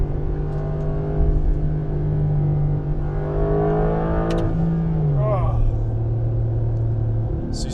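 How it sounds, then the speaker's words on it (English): Porsche 992 GTS fitted with a performance exhaust accelerating hard from inside the cabin, a steady rising engine drone climbing in pitch then dropping at a gearshift, with people talking over it throughout. "Oh God, this new GTS pulls so hard."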